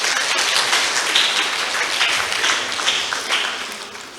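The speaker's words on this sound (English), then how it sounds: "Please give him a round of applause." Applause from a seminar audience after a talk on metaphors of business, a dense steady patter of many hands clapping that holds throughout and tapers slightly at the end, with no talking over it.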